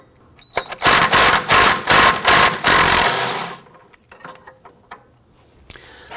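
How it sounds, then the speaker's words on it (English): A 18mm socket and wrench loosen a rear suspension control arm bolt on a 2005-2010 Chrysler 300, giving a run of loud, close ratcheting clicks in quick bursts before fading to quiet. "Using an 18mm socket and wrench."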